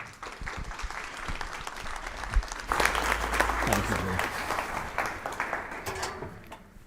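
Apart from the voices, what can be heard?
audience applause for the speaker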